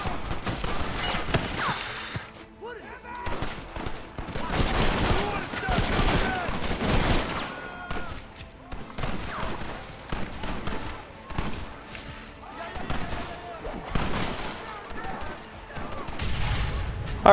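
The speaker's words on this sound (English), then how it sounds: "Alright, I'll use the Gatling gun." A Gatling gun fires in the video game Red Dead Redemption in rapid, rattling bursts that come and go, mixed with other game gunfire and sounds.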